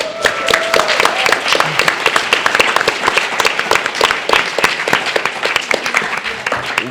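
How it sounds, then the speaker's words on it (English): Convention audience at BronyCon 2013 clapping steadily for several seconds, a dense patter of many hands with sharper individual claps standing out, close and loud, with faint voices mixed in. "Everybody, clap."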